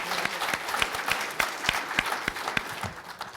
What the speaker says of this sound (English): I'll stop there with a clap.